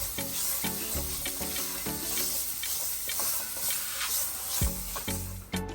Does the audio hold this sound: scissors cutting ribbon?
no